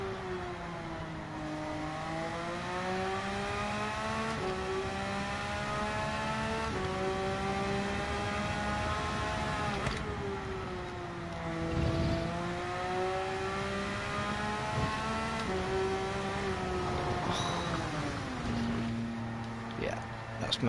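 A video game car engine drones and revs, its pitch rising and dropping repeatedly through gear changes, steady and moderately loud throughout.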